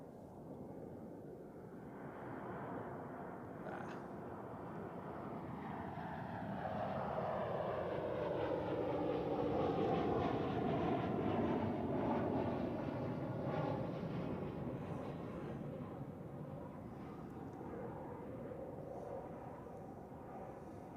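A SunExpress airliner inbound from Antalya lands at Zurich Airport, its jet engines swelling into a loud, sustained roar with a falling whine that slowly fades, heard alone.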